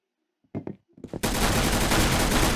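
Gunfire in the online shooter game Arsenal: a few short bursts of shots, then a loud, sustained rapid-fire volley that continues to the end, close and dominant.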